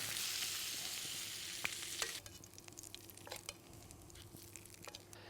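Monkfish fries in a pan while it is basted with butter, giving a steady close sizzle that starts loud and hissy, then eases into lighter crackling with spoon scrapes and spatters.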